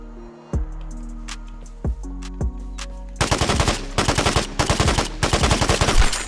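Automatic gunfire from a firefight in the Vigor video game: a few isolated single shots early on, then dense, loud bursts of rapid fire clustered in the second half, with no voices.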